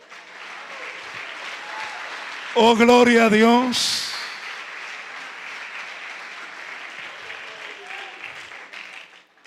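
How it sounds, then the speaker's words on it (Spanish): Church congregation applauding during a sermon, steady clapping throughout with a brief loud spoken exclamation over it near the start, then the applause continuing at moderate level. "Denle un aplauso al que vive"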